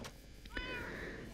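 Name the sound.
cat meowing in Minecraft video game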